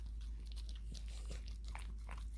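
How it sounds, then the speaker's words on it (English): A dog chewing and wolfing down black beans, close up, with soft repeated biting and crunching bites over a steady low background hum. "I've never seen a dog eat beans before"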